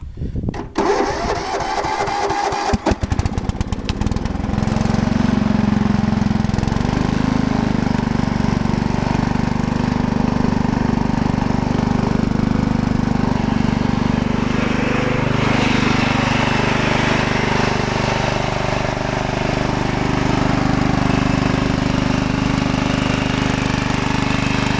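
Roper Motomower 710-100 garden tractor engine, choked to start, sputtering to life in the first few seconds and then settling into a loud, steady idle that runs on continuously close by.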